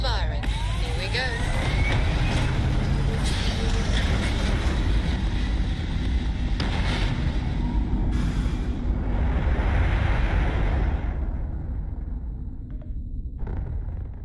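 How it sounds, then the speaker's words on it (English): Spaceship engines fire for launch in the video game Starfield, a loud, dense roar with rumble that holds steady for most of the stretch and then drops away near the end, with a voice talking over it. "Engines firing."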